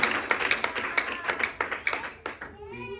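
A church congregation claps in quick, loud, rhythmic unison for about two and a half seconds, then stops as a voice takes over.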